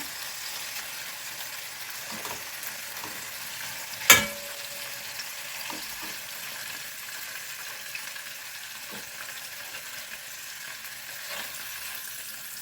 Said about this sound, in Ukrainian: смажу на середньому вогні. Має з'явитися така золотиста скоринка.